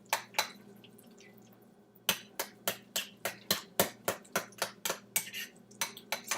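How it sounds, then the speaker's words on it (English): A spoon scraping and clinking rhythmically against a bowl while pumpkin is mixed into oats, a steady series of sharp, close taps after a short quiet pause. "Okay, mix it around."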